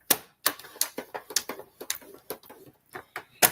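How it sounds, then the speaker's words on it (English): A paper trimmer scores a sheet of paper with a run of sharp, irregular clicks and ticks, close and fairly quiet, with no talking. "So we're going to score this at 4 inches."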